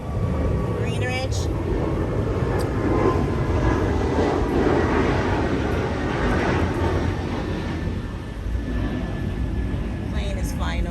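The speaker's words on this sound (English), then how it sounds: "Plane is flying over, so I didn't want to say much at that point." A fixed-wing plane drones overhead above a tropical garden, a loud, steady engine rumble that swells slightly and lingers across the whole stretch, with no talking.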